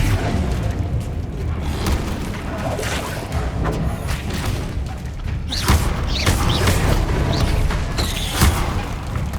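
Spell-combat blasts and magical impacts from Hogwarts Legacy, booming whooshes and crashes bursting repeatedly over a dense rumbling game-sound backdrop, loudest around the middle and end.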